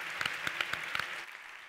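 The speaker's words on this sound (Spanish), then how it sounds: "le damos un aplauso muy grande a Pablo" A brief burst of audience applause for a contestant at a FameLab science-communication semifinal in Barcelona, a hissing wash of clapping with a few sharper claps, fading out after about a second.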